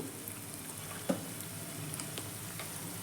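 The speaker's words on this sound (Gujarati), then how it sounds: "તેલ ગરમ થઈ ગયું છે, આપણે એક એક બોલ એની અંદર નાખતા જઈશું" Vegetable manchurian balls frying in hot oil, a soft steady sizzle with a single louder plop near the start as a ball drops in, no voices.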